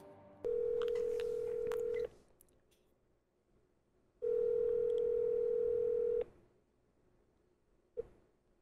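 Telephone tones ring out as a call is placed: two long, steady two-second tones separated by a pause, then a short click, loud and alone with no voices.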